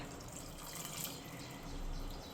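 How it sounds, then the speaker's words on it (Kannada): Water runs and splashes steadily into a pressure cooker for chicken biryani, a soft continuous pour with faint trickling, close by and without voices. "ಸೊ 2 ಗ್ಲಾಸಷ್ಟು ನೀರು ಹಾಕಿದ್ದೀನಿ"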